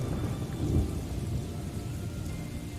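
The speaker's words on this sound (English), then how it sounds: "it's raining" Rain and thunder in the Morrowind video game, a steady hiss of falling rain under a low rolling rumble of thunder that swells and fades.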